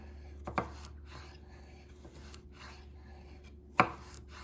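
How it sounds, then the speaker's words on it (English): A chef's knife chops food on a cutting board in two sharp, close knocks, a few seconds apart, with quiet swiping and scraping between them in an otherwise hushed room. "Notice how I don't lift the knife completely off of the board. It's a swiping motion."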